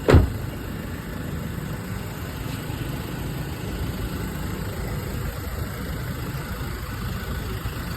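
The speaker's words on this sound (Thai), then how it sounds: "เครื่องยนต์เดินเรียบ" A Mazda BT-50 Pro pickup with a 2.2-litre 150 hp turbo-diesel engine idles steadily and close by, holding an even rumble after a brief knock at the start.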